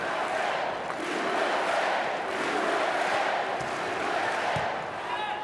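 Crowd noise fills the stands at a USA versus Italy Volleyball Nations League match, a steady roar of cheering and shouting that stays loud and continuous throughout.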